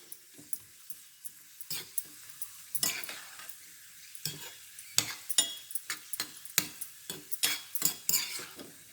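Cashews and raisins sizzling in hot oil in a pan, with a spoon repeatedly scraping and clinking as they're stirred, close up.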